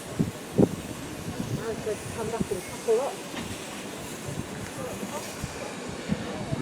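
Great Western design pannier tank steam locomotive 1638 stands ready at Bodiam station on a heritage railway, hissing steam under gusty wind, with a few knocks and someone talking over it.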